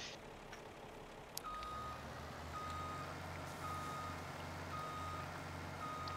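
A truck reversing in Farming Simulator 17, with a steady series of evenly spaced electronic beeps over a continuous low diesel engine drone.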